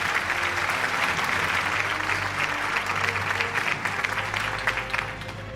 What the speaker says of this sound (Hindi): भरपूर तालियां होनी चाहिए खातिन आजाद ज़हीर कालू साहब के लिए